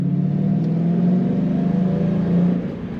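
A 2001 Ford Mustang GT Bullitt drives along with a steady, throaty V8 rumble that holds close and loud, then eases off near the end.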